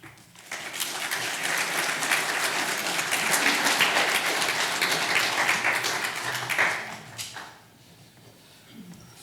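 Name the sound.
church congregation applause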